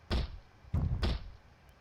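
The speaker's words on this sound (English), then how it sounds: "As you can hear, there's someone banging on a door nearby." Heavy blows thud against a door in the Project Zomboid video game, as a zombie pounds on it nearby: three loud, low thumps in an uneven rhythm, with no voices.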